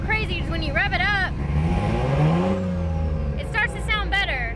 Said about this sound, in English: And it's so crazy because when you rev it up,